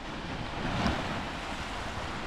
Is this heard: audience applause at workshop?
no